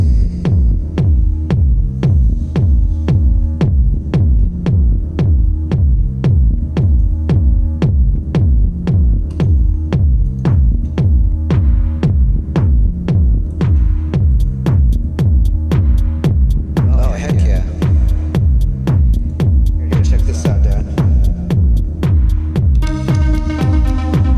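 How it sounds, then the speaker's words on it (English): A steady, looping drum beat with a heavy, throbbing low end repeats at an even tempo, with brighter cymbal-like hits joining near the end. "So I'm gonna add drums and see what I can do."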